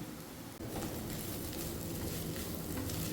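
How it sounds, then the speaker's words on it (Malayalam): Crushed boiled chicken, cooked with turmeric and salt, being stirred into a masala in a hot pan, giving a steady close sizzle with scraping stir noises throughout and no talking. "ഇനി വീണ്ടും നന്നായിട്ട് തന്നെ മൊത്തത്തിൽ അങ്ങോട്ട് മിക്സ് ചെയ്തെടുക്കുക"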